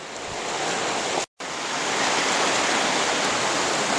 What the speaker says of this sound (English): The path goes right along the shoals of the creek.